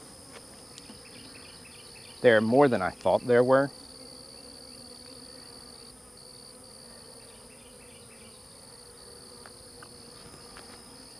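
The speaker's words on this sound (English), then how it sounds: "So seeing the number of bees that are left on this frame" Steady insect-like buzzing of many honey bees around a hive frame hums throughout, with a short burst of a nearby voice speaking early on.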